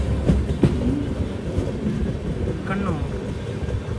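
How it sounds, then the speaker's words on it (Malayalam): Kerala Sampark Kranti Express pulling into Kannur railway station: a steady low rumble of the train with faint wheel clatter and a brief squeal, a voice briefly audible over the noise. "ട്രെയിനിപ്പോൾ ഇതാ കണ്ണൂർ റെയിൽവേ സ്റ്റേഷനിലേക്ക് എത്തുകയാണ്"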